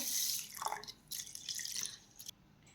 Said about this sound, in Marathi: तांदूळ आणि डाळ आता आपण स्वच्छ धुवून घेऊयात